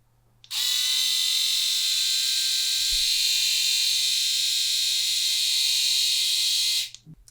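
A steady, high-pitched hum from an RQ8870 seven-head electric shaver runs continuously for several seconds, starting and stopping abruptly, close and fairly loud with no talking.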